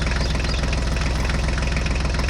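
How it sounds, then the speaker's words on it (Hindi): A John Deere tractor engine runs steadily at a close, loud, constant diesel idle with a fast, even knocking pulse and no talk. "अब हम जॉन डीरे ट्रैक्टर की ट्रॉली को अटैच करके आगे चलते हैं"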